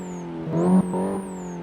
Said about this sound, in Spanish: el sonido de este coche está bastante bien logrado